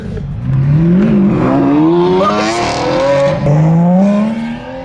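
A GT3 sports car drives past, its engine note climbing and shifting through gears as it goes by, loud and close, with no voices over it.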